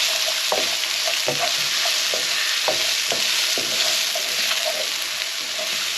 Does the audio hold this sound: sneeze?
no